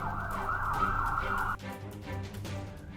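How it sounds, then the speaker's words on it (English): Emergency sirens wail through city streets, a loud wavering siren tone that cuts off abruptly about halfway, then gives way to lower rumbling street noise. "loud sirens echoed through the streets"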